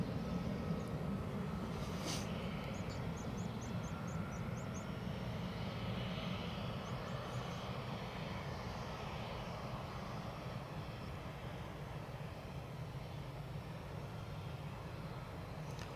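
A fixed-wing aircraft departs Edinburgh Airport, its engine roar a broad, steady rumble heard from a distance, sustained throughout with faint ambient noise and no talk.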